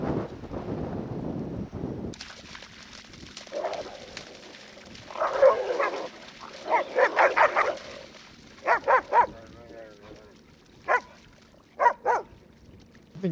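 Two dogs on a beach bark in short bursts and scattered yips, some doubled, over a low steady background rumble.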